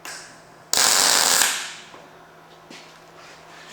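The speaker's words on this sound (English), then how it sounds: "fire up the welder, let's get that side little gusset welded in place" Welding on a small side gusset, heard as a loud broadband crackling burst lasting under a second, then fading into quieter hiss with a faint short flare near the end.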